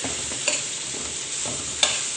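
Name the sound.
carrots frying with browned garlic for spring rolls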